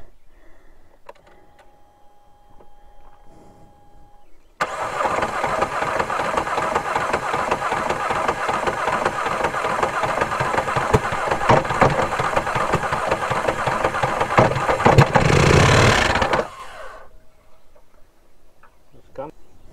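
Polaris Sportsman 1000 ATV that has gone through water, turning over and then running in a loud sustained rough chug for about twelve seconds before cutting out, with quiet background sounds before and after.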